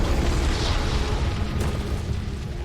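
Explosion of a bomb bolt fired from a crossbow in Shadow of Mordor, a dense low boom with rumbling debris that holds steady and loud throughout, fading slightly at the end with no voices.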